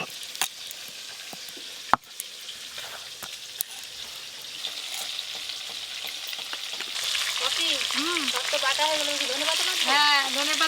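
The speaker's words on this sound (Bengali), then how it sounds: "তেল গরম হয়ে গেছে, এবার মাছগুলো দিয়ে দেব।" Large pieces of silver pomfret fish fry in hot oil, a busy crackling sizzle with sharp pops that thickens as more pieces go in; a voice talks faintly near the end.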